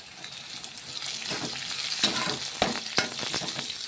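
Ivy gourd and other vegetables sauté in a hot pan for a Tamil curry, a soft steady sizzle broken by a few sharp scrapes and clinks of a stirring spoon, fairly quiet with no talk.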